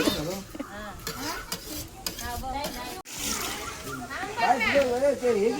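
Dal and vegetables stirred in a pan, a soft scraping and sizzling that runs steadily beneath loud, continuous talking voices.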